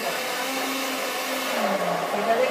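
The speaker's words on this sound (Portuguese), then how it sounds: "Ele exige muito do liquidificador." Kitchen blender grinding a liquid mixture for an Ayurvedic cooking class, a steady loud motor whir with its pitch dipping and shifting slightly as the load changes, running continuously throughout.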